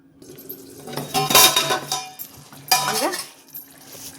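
A metal plate set over a pot of biryani rice, two bursts of clattering and clinking metal about a second and a half apart, close and fairly loud, with a faint voice between.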